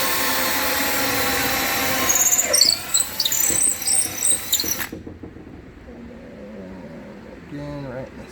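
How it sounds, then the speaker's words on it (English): A power drill bores into the center of a table, its high whine and grinding running loud and close before cutting off abruptly, followed by quieter handling noises and a brief squeak. "we'll go ahead and get these drilled out now. We're just going right into the center"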